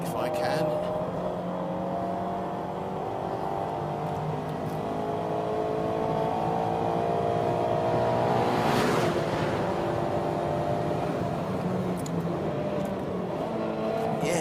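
A Mazda MX-5 engine drones steadily from inside the car during a track lap, its pitch rising and falling with throttle and gear changes, with a brief louder swell midway.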